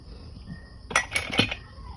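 A metal spoon clinks against a coffee cup while coffee is being prepared: a quick cluster of three or four bright, close taps lasting about half a second, over a quiet room hum.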